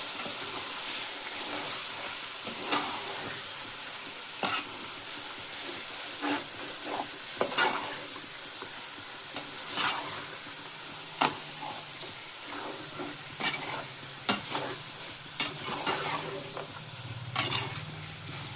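Chicken biryani masala with homemade garam masala frying in a pan as it is stirred, giving a steady close sizzle broken by repeated sharp scrapes and clinks of the spoon against the pan, with no voices.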